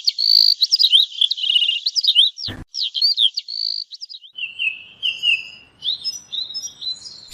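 Cartoon mynas chirp in a lively stream of bright, rapid twittering calls, close and clear with brief pauses, and a single sharp click cuts through midway.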